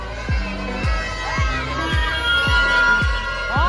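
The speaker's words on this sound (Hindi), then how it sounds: "भीड़ हो चुकी है दबा के।" Noisy crowd gathered for the Dussehra Ravan burning in Patel Nagar, a steady roar of voices with repeated sharp bangs, likely firecrackers, thumping at regular intervals throughout.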